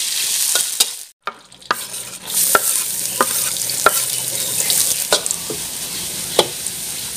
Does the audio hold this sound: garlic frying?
yes